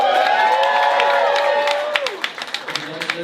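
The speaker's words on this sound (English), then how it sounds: "Cheer really loud for the people the person you want to eliminate." A comedy-club audience in Philadelphia cheers loudly with whoops and claps, a sustained roar that thins into scattered claps and shouts near the end.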